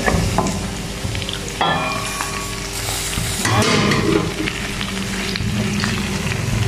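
Onion fries and browns in a pan with a loud, dense sizzle and occasional stirring clatter, close and continuous throughout.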